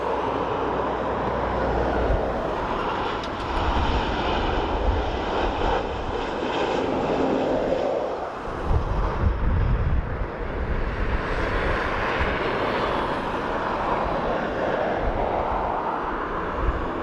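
A fixed-wing airplane flies near Dublin Airport, its engine roar a steady broadband rumble that holds loud for the full stretch and swells slightly toward the end, with no talk.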